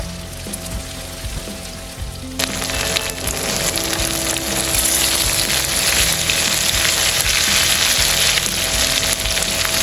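Cheese seekh kababs fry in a non-stick pan, starting with a soft background hiss that suddenly bursts into a loud, continuous, close sizzle and crackle.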